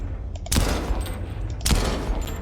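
A Titan gun fires in the video game Dawn of Aurora, with two loud, heavy bursts of gunfire about a second apart over a constant low rumble.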